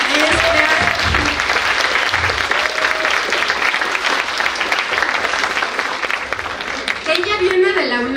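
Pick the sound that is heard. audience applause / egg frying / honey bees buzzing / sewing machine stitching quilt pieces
audience applause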